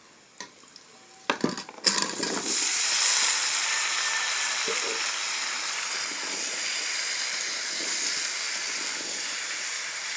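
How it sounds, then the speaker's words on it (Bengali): Diced pumpkin tipped into browned onions in a wok gives a steady, close hiss of frying that holds for about eight seconds, after a few sharp clanks and scrapes of the spoon against the pan. "পেঁয়াজ লাল লাল করে ভাজে নেওয়ার পরে ওখানে আমরা মিষ্টি কুমড়া ঢালে দেব।"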